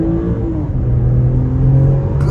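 A 2024 BMW X6 xDrive 40i in sport mode accelerates hard from a U-turn, its engine rising in a loud, steady surge of revving rumble that holds throughout with no talk over it.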